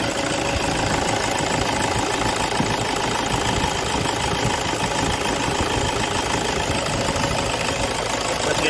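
A 2010 Toyota Innova Type G with an automatic and a diesel engine, idling with a steady, dense rumble and a fine clatter, close and constant throughout.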